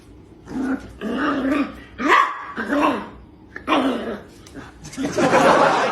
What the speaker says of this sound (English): You're a little puppy. Growling at that doggy.